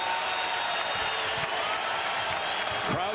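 A basketball arena crowd cheers and applauds in a loud, dense roar that stays steady throughout, with a commentator's voice carrying over it.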